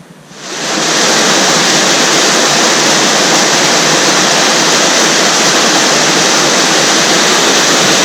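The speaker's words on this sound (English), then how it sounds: "Here by the Illinois River, getting some water." The Illinois River rushes over boulders in a wilderness canyon, a loud, steady, close roar of churning water that swells up within the first second and holds unbroken throughout.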